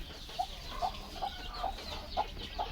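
Hens and native chicks give a series of short, evenly spaced clucks at moderate distance, about six calls over a steady low background hum with no talking.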